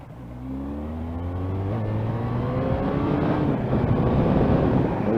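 A 1986 Honda Interceptor 500 motorcycle accelerating hard, the engine note climbing through rising revs with a shift partway through, loud and close over rushing wind.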